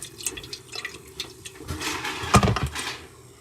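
Acid cleaning solution sloshes and swishes inside a VEVOR spout as it is shaken by hand, giving short uneven watery splashes that peak in one louder slosh, close and fairly quiet.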